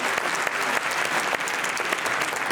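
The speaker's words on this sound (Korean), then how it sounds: "박수로 격려해 주시고 찬양해 주시면 고맙겠습니다." An audience at a church worship gathering claps steadily and densely for a few seconds, a close, continuous wash of applause with no voices standing out.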